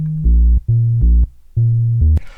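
A deep, punchy synth bass line plays short repeated notes in a bouncing rhythm, jumping between low and higher pitches, loud and dry with no pumping.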